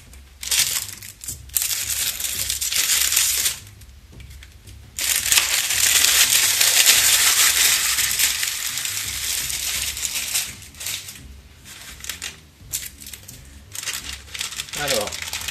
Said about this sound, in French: je vais commencer par déballer le fascicule numéro 4